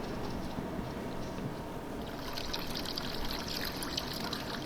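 Water from a planted Fluval Spec aquarium siphoned through a tube into a bucket, a continuous soft trickling and gurgling stream, steady and fairly quiet, no talking.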